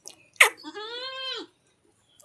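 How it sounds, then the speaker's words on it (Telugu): A household goat gives a single drawn-out bleat, close and clear, lasting about a second against an otherwise quiet background. "మా ఇంటి మేక"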